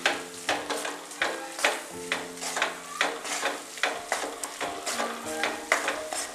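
Chili powder and turmeric sautéing in oil with green chillies, stirred in a steady rhythm: a continuous sizzle punctuated by regular scraping strokes of a spoon against the pan, close and alone.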